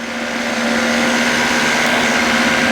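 A Flylight microlight aircraft engine drones steadily and loudly during climb out, a constant high-pitched buzzing hum with a strong tonal whine and no pauses.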